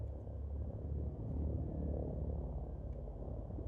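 Low, steady engine hum of a Lakon Asp ship in Elite: Dangerous, a continuous rumbling purr like a distant helicopter, constant and faint with no talk over it.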